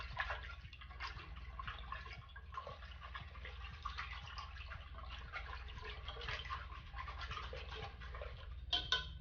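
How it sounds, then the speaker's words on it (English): A whisk beats cheesecake mixture in a bowl with fast, steady rhythmic scraping and tapping, faint and continuous throughout. "we're going to mix this up real good with a whisk just to make sure everything's good and combined."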